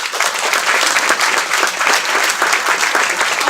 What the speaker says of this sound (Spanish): Dale palmas a Dios.